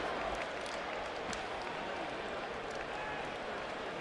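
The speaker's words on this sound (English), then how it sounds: "A mixed response from the crowd after a whitewash domination of Baldomir" Boxing arena crowd reacting after Floyd Mayweather Jr. beats Carlos Baldomir, a dense, continuous roar of mixed cheers, noise and scattered clapping that stays loud and steady throughout.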